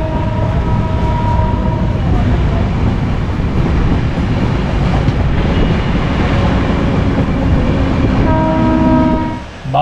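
A passenger train from Kolkata to Varanasi running at speed, a loud continuous rumble and rattle of wheels on track heard from inside, with a steady roar and brief tonal horn-like hums, no talk.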